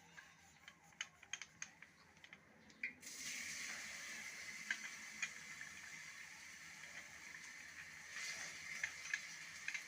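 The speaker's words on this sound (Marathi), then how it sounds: "तेल तापलं की हे वाटण टाकून घेते मी" Ground spice paste for vada pav tipped into hot oil, bursting into a steady bright sizzle after a few quiet seconds of small clinks, close and continuous with no talk.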